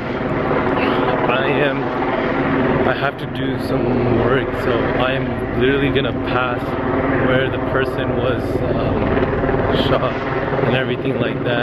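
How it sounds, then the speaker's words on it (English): A steady low rotor drone of helicopters hangs in the background during a shooter lockdown at UCLA, while a person talks continuously over it. "You guys can hear the helicopters right now."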